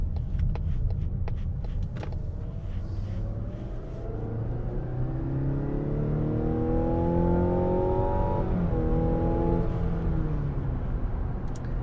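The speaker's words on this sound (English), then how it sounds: "I'll accelerate here, give you a quick demonstration." Mazda CX-90 plug-in hybrid's four-cylinder engine accelerates, a rumbling drone whose tone climbs steadily through the gears, heard from inside the vehicle with no talk.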